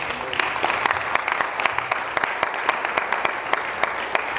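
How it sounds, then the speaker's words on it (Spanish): A church congregation claps, producing steady, moderately loud applause with sharp individual claps standing out in a loose rhythm. "Alguien dele palmas al Señor."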